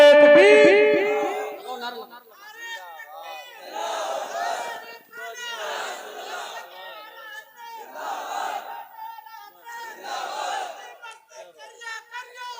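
A large crowd at an outdoor Islamic religious gathering in Sitarganj shouts the Takbir response in unison after a leader's call, loud massed voices in a few rhythmic chanted bursts rising and falling.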